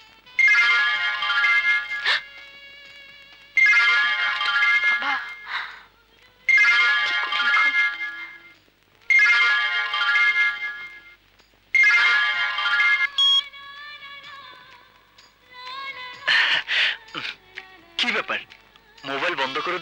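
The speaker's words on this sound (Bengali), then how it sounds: "আপনার ফোন।" A mobile phone ringtone plays loudly in repeated melodic bursts with short pauses, then gives way to other sounds and voices.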